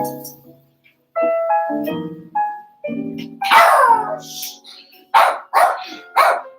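A dog barks at a recycling truck on garbage day, letting out loud, close bursts of barks and yips in an uneven rhythm, with a few whimpering notes between them.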